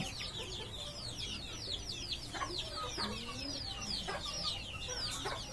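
Country chickens raised by natural methods on a farm cluck at moderate distance, mixed with a continuous chorus of high, sweeping chick peeps.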